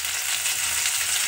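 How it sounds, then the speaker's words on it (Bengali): Onion and green chilli frying together with ginger paste, an even, continuous hissing sizzle at moderate level, heard up close without talk. "আর কাঁচা লঙ্কা ভাজা হচ্ছে আদার সঙ্গে দিয়ে"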